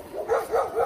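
A seven-week-old Chinese Red Dog puppy barking during a prey drive assessment, giving three quick, high yipping barks in an even rhythm, close and fairly loud.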